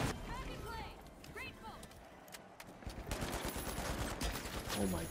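Gunfire in the shooter game The Finals, dense bursts of shots through the second half after a quieter stretch, loud and close with a player's voice talking over it.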